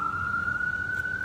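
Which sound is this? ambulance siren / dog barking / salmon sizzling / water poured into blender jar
ambulance siren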